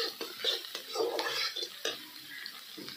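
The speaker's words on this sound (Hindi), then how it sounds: "नमक डाल के हम बढ़िया से भूनेंगे मसाला के।" Fish masala being stirred in a pan as it fries with salt, a metal spoon scraping and clinking against the cookware in a busy, irregular rhythm, close by, with sizzling underneath.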